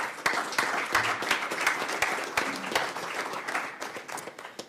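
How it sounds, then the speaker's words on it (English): A community audience at a program welcoming new Iowans gives a quick round of applause, with many sharp individual claps over a softer crowd wash, fairly close and tapering toward the end. "if we could get a quick round of applause for all their support"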